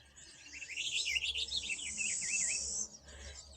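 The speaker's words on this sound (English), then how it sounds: "Beautiful song sparrow here." A song sparrow sings from a backyard at a bird feeder, a bright warbled phrase of rapid trills and notes lasting a few seconds, clear and fairly close over a low steady background hum.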